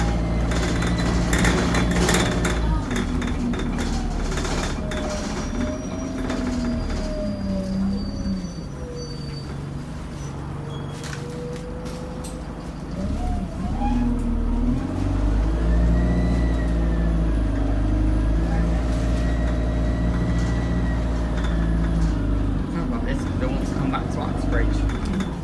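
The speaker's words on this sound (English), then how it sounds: "But that squealing, it makes it sound awful." A bus on route W9, fleet number DE995, registration LK09ENF, climbs uphill with a continuous engine rumble and shifting, whining squeal tones that bend up and down. Voices talk over it at times.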